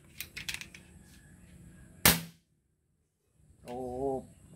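A Farco foot pump being pumped, with a few light clicks and then a single sharp, loud pop, followed by a moment of silence and a short tonal squeal.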